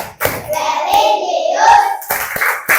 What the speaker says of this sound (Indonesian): Oke, tepuk PPK.